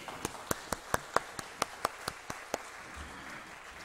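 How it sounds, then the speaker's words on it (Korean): Congregation at a Thanksgiving Sunday church service claps in a sparse, evenly spaced rhythm, about a dozen sharp, faint claps in a quiet room, then stops. "다 함께 박수 한번 칠까요?"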